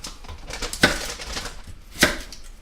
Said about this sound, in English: Kind of cut the bottom off a little bit.